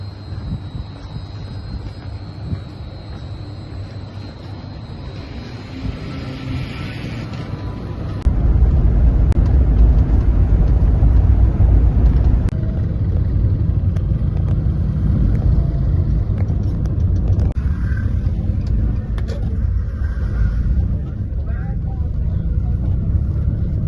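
A taxi drives along a road in Nepal, its engine and road rumble rising into a loud, steady drone with wind buffeting the microphone.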